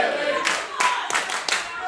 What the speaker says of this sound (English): Crowd getting behind Millie McKenzie.